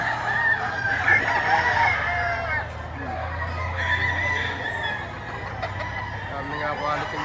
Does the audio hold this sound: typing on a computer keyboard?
no